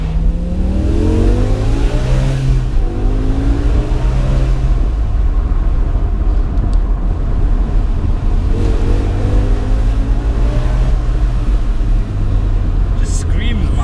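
A BMW M5 E60 engine revs hard and accelerates up through the gears. The loud, rising wails recur with a shift between them, and the car is recorded close up with a voice underneath.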